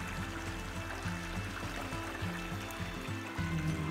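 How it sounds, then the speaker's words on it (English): A creek flowing on Kodiak Island, Alaska, a steady low trickle and gurgle of running water heard faintly under a low, pulsing rumble throughout. "Creek right down here."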